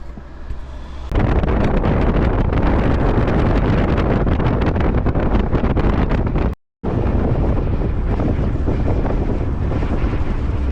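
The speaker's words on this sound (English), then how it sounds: "Yeah, it was windy." Strong, steady wind roaring across the microphone during a truck ride from Leh to Kargil in Ladakh, loud and continuous, with a brief dropout near the end.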